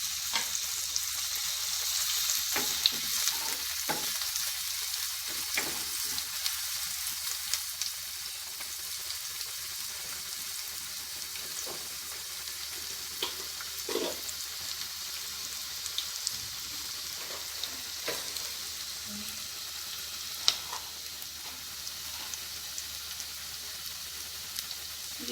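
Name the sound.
bay leaves sizzling in hot oil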